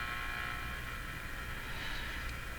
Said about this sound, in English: A buzz. That was an automatic light in my in the room next to me here